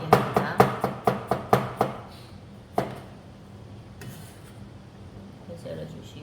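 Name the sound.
slicing garlic flat with a knife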